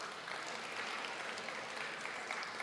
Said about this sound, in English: Let's give a warm round of applause to Dr. Gay Jane Perez.